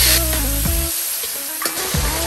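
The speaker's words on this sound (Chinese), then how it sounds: "将这个腊肠也加进去， 炒出辣味之后呢，加入这个灵魂的酱汁" Chinese sausage sizzles and crackles in a hot pan with garlic and scallion, a steady loud frying hiss broken by a few stir-fry scrapes, with no talking.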